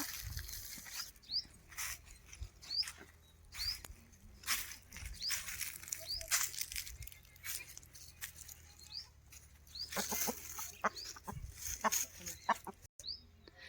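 Free-range hens cluck and call intermittently outdoors on a farm, with soft scratching and rustling in between; no one speaks.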